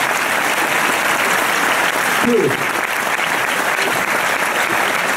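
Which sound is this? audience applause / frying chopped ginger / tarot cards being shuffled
audience applause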